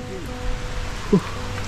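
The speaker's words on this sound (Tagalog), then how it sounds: "Maulan." Steady rain falls outdoors, a soft continuous hiss and patter throughout, with a faint brief voice-like sound partway through.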